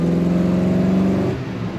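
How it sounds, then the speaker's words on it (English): A 1940 Buick Super sport coupe engine pulls steadily up close, then its tone drops and eases as the car shifts into second gear, with no one talking. "Let's go to second gear for the traffic circle."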